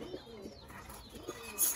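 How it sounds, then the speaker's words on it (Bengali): Paired pigeons in a loft, one hen sitting on eggs, give soft low coos at intervals with faint chirps, quiet and fairly close, over light background noise. "এই যে দুইটারে জোড়া দিছি, নটটা ডিমে বসে রয়েছে"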